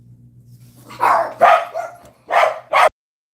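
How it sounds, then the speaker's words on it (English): Puppies barking indoors at night as people arrive home, four loud, close yips and barks in two quick pairs over a low steady hum, no talking. "the puppies must let me know that everyone's coming home"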